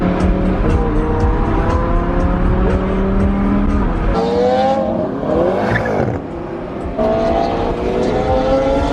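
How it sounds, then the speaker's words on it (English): Supercar engines rev hard and close by, overlapping high-pitched revs climbing and falling in bursts with a sharp rising whine midway, loud throughout amid a busy street crowd of cars. "Can't even speak, there's so much revving going on."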